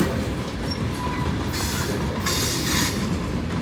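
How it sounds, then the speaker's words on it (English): A westbound loaded rock train hauled by GE locomotives rolls past up close, with loud steady wheel rumble, rhythmic clacking and hissing bursts. "This is a good rock train. Westbound loaded rock train."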